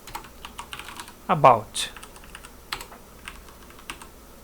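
Typing a file name on a computer keyboard, scattered light clicking keystrokes close up, with a short burst of speech partway through.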